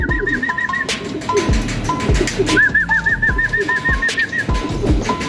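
Young racing pigeons at a loft coo in repeated rolling phrases, close and clear, with sharp clicks and knocks of the loft trap between calls and other birds chirping faintly behind.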